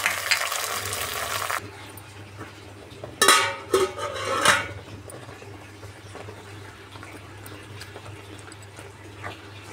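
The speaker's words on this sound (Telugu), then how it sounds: "ఇలాగా మధ్యలో కలుపుతూ ఉండాలండి" Gongura leaves and garlic cloves are stirred in a pan: a loud burst of utensil clatter and scraping near the start, then a few sharp clinks of a spoon against metal over a low, steady hiss.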